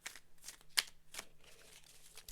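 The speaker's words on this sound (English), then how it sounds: "Now I am going to shuffle my fairy tarot cards" Fairy tarot cards being shuffled up close, giving soft papery riffles and taps in uneven bursts, one crisper snap standing out, quiet overall with no talking.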